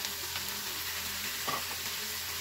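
Chicken bones sauté with aromatics in a pan for chicken bone soup, giving a continuous close sizzle with soft stirring scrapes and no talking.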